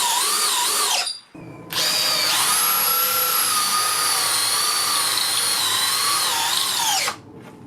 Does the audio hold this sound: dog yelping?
no